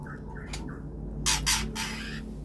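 An eight-month-old juvenile white-rumped shama gives a few short whistled calls, followed by louder, harsher bursts of chattering song, with steady background hum.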